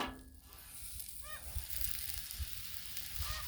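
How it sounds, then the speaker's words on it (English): A few distant, wavering peacock calls rise briefly over steady sizzling of veggie burgers on a griddle, spaced apart with quiet stretches between them. "The weird sounds you hear are one or two of the neighborhood peacocks"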